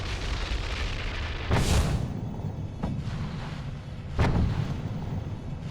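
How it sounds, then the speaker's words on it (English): A volcano erupting violently, heard as a steady rumbling roar with two strong booming blasts, one early and one late, over continuous loud noise. "the gases suddenly expand and the volcano violently erupts"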